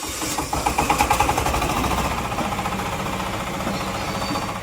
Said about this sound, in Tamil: இந்த மிஷினில் பேட்டரி செல்ஃப் ஸ்டார்ட் வசதியோட கூடிய டீசல் என்ஜின் இருக்கு